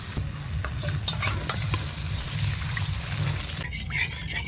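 Spiced chicken gravy sizzles and bubbles in the pan as water goes in, with a steady frying hiss and scraping stirs throughout.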